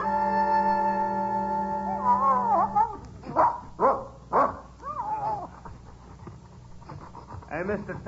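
A dog on an old radio drama recording whines, pants and gives a few short barks up close, following a sustained steady tone, with a voice briefly audible near the end.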